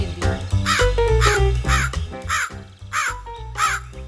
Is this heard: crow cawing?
yes